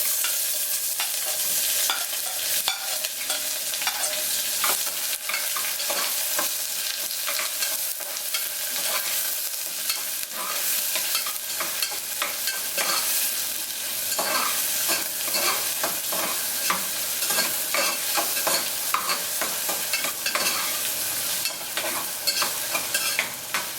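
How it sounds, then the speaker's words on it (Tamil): Onions frying in a pan with cloves and cardamom for chicken biryani, a steady dense sizzle with frequent scraping stirs, loud and close throughout with no talking. "இது கொஞ்ச நேரம் ஃப்ரை ஆனதும் இந்த ஆனியன் இது போட்டுக்கணும்"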